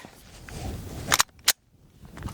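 Glock pistol firing Winchester or Blazer 115 grain FMJ ammunition, a few sharp, brief shots in quick succession, loud and close at an outdoor range with no talk.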